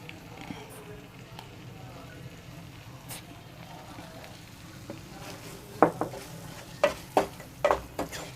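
Mixed vegetables with salt being stirred in a pan, a low sizzle under quiet talk, followed by a run of sharp spoon knocks and scrapes against the pan near the end.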